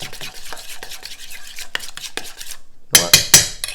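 A spoon or utensil stirs and scrapes through a thick mixture of mayo, Dijon mustard and black pepper in a bowl, steady close clatter followed by several louder clinking strikes near the end.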